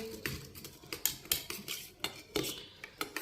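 A metal spoon clinks and scrapes rhythmically against a bowl while malai face pack ingredients are mixed together, about a dozen quick, light taps close by with no talking.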